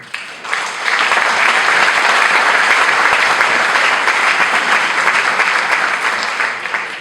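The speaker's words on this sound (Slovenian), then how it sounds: "To je bil torej srebrn aplavz za srebrno gazelo" Steady, loud applause from a large audience at an award ceremony, sustained for several seconds before easing slightly at the end.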